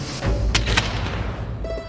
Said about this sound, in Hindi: पटाखे कितने फूट रहे?